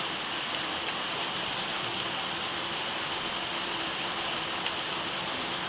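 Steady, dense rain pours down in Begumganj, Noakhali, Bangladesh, a continuous even hiss with no breaks or voices.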